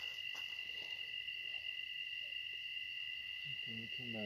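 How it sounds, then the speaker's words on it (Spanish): Crickets chirp faintly at night near a river, a thin steady high trill running throughout, with a few soft low calls and a brief murmur appearing near the end. "Hay mucho grillo"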